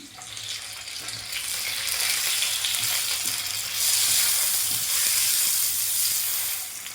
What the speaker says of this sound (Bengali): এটা হালকা ভাজা হোক টমেটোটা